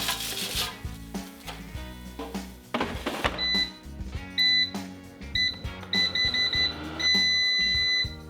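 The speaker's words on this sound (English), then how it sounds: "The timer has gone off." A series of short, high electronic beeps from an air fryer timer sounds over busy kitchen clatter and rustling, repeating in quick bursts toward the end.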